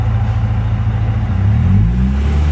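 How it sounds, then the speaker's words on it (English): Manual stick-shift car engine in first gear: a loud, close, steady rumble that climbs in pitch as gas is added, continuous with no talking. "So I'm going to go to first gear and I'm going to add gas."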